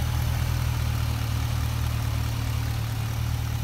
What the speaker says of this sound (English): There we go, your big V8 engine,